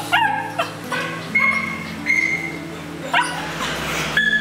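Dogs at an animal shelter yip, bark and whimper in short, repeated bursts, close and clear over a steady hum.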